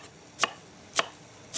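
A knife chops vegetables into small triangles on a board in a chef's kitchen, three sharp, evenly spaced strikes about half a second apart, close and clear with no talk.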